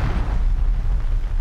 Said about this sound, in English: And watch out for explosions, just like that one.